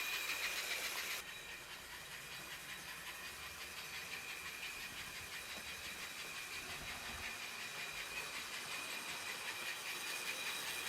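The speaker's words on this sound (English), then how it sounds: "No problems with this steam engine pulling 5 cars." A small American Flyer HO model steam locomotive pulling five cars runs steadily along its track, a continuous whirring, clicking rumble with a faint hiss, quiet and unbroken throughout.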